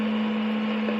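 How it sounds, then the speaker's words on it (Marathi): A kitchen mixer grinder whirs as it grinds cumin and coconut, a brief, loud, steady motor drone with a strong whine. "जिरं, खोबरं हे आपण लावून घेऊ मिक्सरला."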